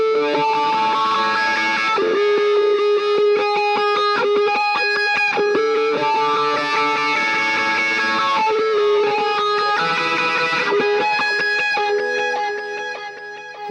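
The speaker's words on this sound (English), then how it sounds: "I'm playing a pretty heavy overdriven sound with a wah part" A heavily overdriven electric guitar with a wah pedal plays a rhythmic chordal line, the sweeping wah tone pulsing through repeated strummed chords, loud and steady throughout.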